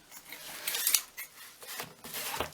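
A pair of crafting scissors gets a quick sharpen, giving faint, close metallic scraping strokes in short bursts with brief pauses between them, quiet and alone.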